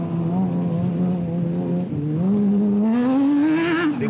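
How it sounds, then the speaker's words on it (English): Rally cars run a race at the Carnival City 400 in 2011, their engines droning loudly and rising in pitch as they accelerate, with a second engine note joining near the end. "The Sewalds drove into view ahead of the Century Racing pair"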